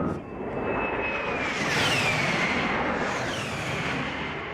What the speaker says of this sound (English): Warthogs were a very interesting kind of plane because it's kind of eerie, because they get very low and they're just got this whine to it.